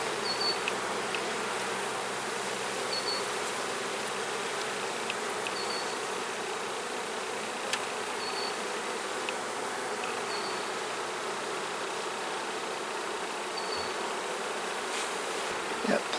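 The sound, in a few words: honey bees buzzing at an open hive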